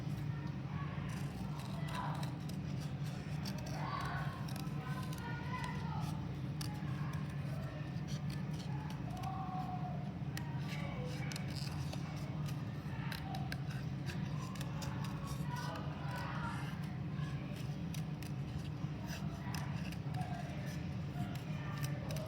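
Scissors snip out a paper flower for a Mexican nicho box craft, a faint, steady run of small crisp cuts under quiet room noise, with occasional soft talk in the background.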